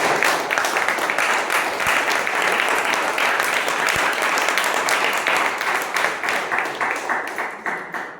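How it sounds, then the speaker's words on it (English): Sustained applause from a meeting audience honoring the officers of a Toastmasters chapter, a dense steady clatter of many hands that holds strong for several seconds before gradually thinning and fading out at the end. "Let us have a big round of applause for all the officers."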